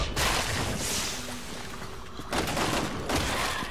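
Rapid gunfire rattles through Resident Evil 6 game action in loud, dense bursts with brief pauses, and no voice talks over it.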